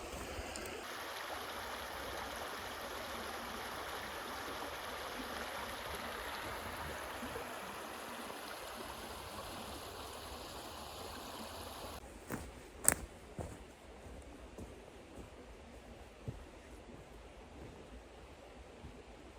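A river flows through woodland, a steady broad rush of water with light wind noise on the microphone, then a few close knocks and handling bumps near the end.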